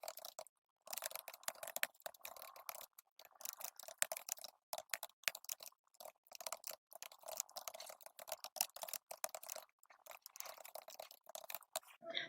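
Rapid, irregular keystrokes on a computer keyboard, close and fairly quiet, clattering steadily with brief pauses while a Korean-language word-processing exam exercise is typed out.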